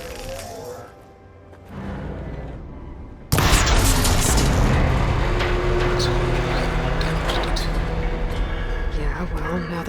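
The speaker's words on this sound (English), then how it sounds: "Maybe I can shoot the coupling on the arm." After a quiet, murky lead-in, a sudden loud impact in Horizon Forbidden West, from shooting the coupling on a machine's arm, gives way to sustained crashing, rumbling debris and clatter that stay dense and loud to the end.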